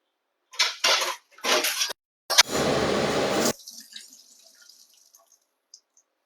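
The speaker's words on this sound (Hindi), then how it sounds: "अभी मैं इसे थोड़ा वॉश धो लेती हूँ" A bottle gourd is rinsed under a running kitchen tap. Short splashing gushes are followed by a longer steady stream, then faint drips and small clinks, with no voices.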